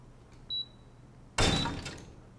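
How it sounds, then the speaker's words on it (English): A breaching charge goes off on a door in the Door Kickers 2 tactical game, a sudden loud blast with crunching debris that quickly fades, preceded by a brief high electronic beep. "the bomb makes a sound"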